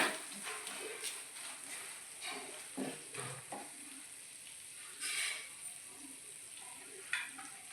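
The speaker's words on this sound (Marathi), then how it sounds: "धना पावडर मिरची पावडर सर्व मसाले चांगले परतून घ्यायचे" Coriander powder, chili powder and spices frying for soybean gravy, a faint soft sizzle with occasional scraping stirs, quiet and intermittent.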